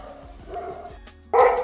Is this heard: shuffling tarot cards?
no